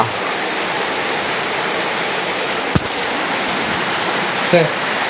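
Steady afternoon rain falling, a broad continuous hiss with a couple of brief knocks and a faint sound near the end.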